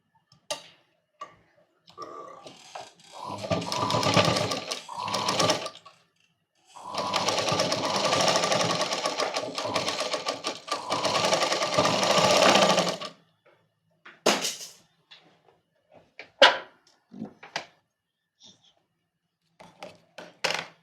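A sewing machine stitching a princess cut blouse runs in two long sustained bursts, then gives way to a few short clicks and taps near the end, with no talking.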